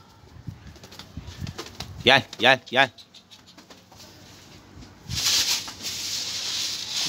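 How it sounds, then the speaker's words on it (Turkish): A flock of birds bursts into flight with a rush of flapping wings, loud and close, lasting about two seconds after a man's brief calls. "Gökyüzü kuş doldu ya."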